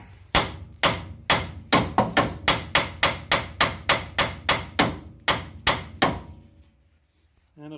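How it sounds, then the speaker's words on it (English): A hammer strikes repeatedly at a steady pace on a ball joint of a 1968 Datsun Roadster, about eighteen sharp metallic blows close up, then the hits stop and a brief voice follows. "You can use your hammer and wrap on right on the end here."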